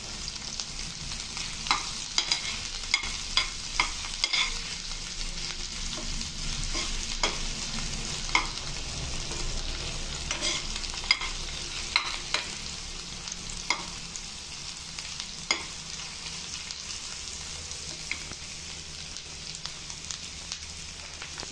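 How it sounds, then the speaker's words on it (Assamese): Cumin, garlic and dried red chillies fry in hot oil in a pan, giving a steady sizzle with scattered sharp pops and occasional stirring scrapes, close and continuous with no talk. "জিৰা, নহৰু, শুকান জলকীয়া, তেতিয়া এইখিনি ধুনীয়াকৈ একদম ৰঙা হোৱালৈকে ভাজি ল'ম।"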